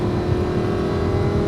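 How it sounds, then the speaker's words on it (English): A Lamborghini Huracan 580-2 with a dual-clutch gearbox runs while driving, its engine giving a steady, loud, resonant drone from inside the car, with no voices over it. "Just listen to that engine."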